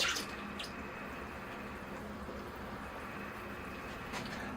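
Water poured over a newly repotted plane tree bonsai forest, a steady soft trickle and patter of drips onto soil, continuous and fairly faint, with a couple of brighter splashes.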